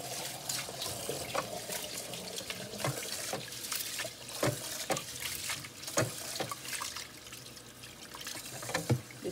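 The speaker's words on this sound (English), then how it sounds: "It's very important to wash your rice." Rice is washed under a running kitchen tap, with steady flowing water, splashing and intermittent clatters of grains and hands in a sink, close-up and alone.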